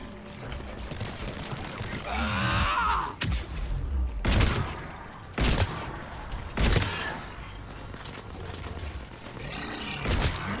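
Gunfire during a firefight in the video game Mass Effect 3, with sharp loud bursts standing out from a busy rumbling combat backdrop, along with roaring and grunting creature sounds in between.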